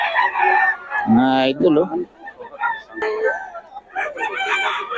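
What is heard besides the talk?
stag roosters crowing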